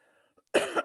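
A single sharp cough, close and fairly loud, after a brief near-silent pause with faint background hum.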